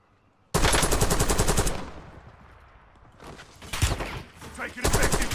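Automatic gunfire in a Call of Duty Warzone match, a loud close burst of rapid shots that stops abruptly, then fainter scattered fire and another burst near the end.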